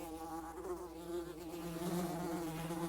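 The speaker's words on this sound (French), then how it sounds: "Une autre mouche apparaît dans sa cellule, puis une troisième et une quatrième maintenant." Several flies buzz continuously in a prison cell, their droning whine rising and falling as they circle, steady and close with no voices.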